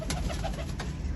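Blue-eyed pigeons in a loft coo softly in a brief low burst, with a few faint wing or shuffle sounds nearby and no talking.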